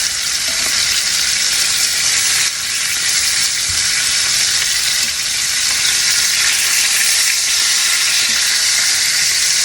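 Oxtail pieces sear in a hot pan for oxtail stew, giving a loud, steady, dense sizzle throughout, with a faint clink as pieces are flipped and no talking.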